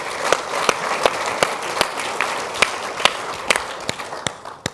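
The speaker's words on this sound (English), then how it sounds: "there's a bit of clap I can see in the audience" Audience applause at a public talk, a moderate spread of clapping with many crisp individual claps standing out, steady throughout and easing off toward the end.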